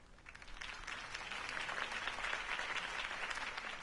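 Steady applause from a sizable crowd in the video game Batman: The Telltale Series, dense clapping that holds evenly throughout without pause.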